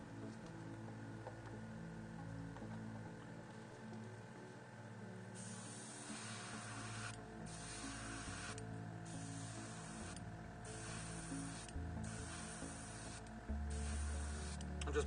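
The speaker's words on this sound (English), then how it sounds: "I'm going to show you how I paint it with the airbrush" Airbrush hissing softly as it lays a scorched brown base coat onto a Space Wolves miniature's cloak, faint steady spray broken by short bursts and pauses as the trigger is released, with a low background hum.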